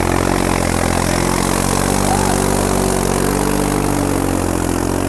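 A tractor engine drones loudly and continuously at a tractor-trolley pulling contest in Mansa district, Punjab, with a steady, close, heavy mechanical hum throughout.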